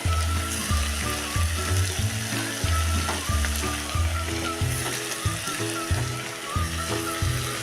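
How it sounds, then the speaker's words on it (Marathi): Washed, drained rice tumbles into hot oil tempered with coriander for masale bhat, giving a steady sizzle and a regular, rhythmic scrape of stirring in the pan, close and fairly loud. "आता टाकूया हे धुवून निथळून घेतलेले तांदूळ"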